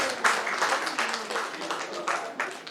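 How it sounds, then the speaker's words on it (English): A conference audience applauds panel speakers and session chairs at an urban sanitation event. The clapping is a steady, moderate patter of many hands, somewhat distant and muffled, holding evenly throughout. "So give them a big round of applause for our speakers and the chairs."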